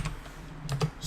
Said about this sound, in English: Let's type in our password.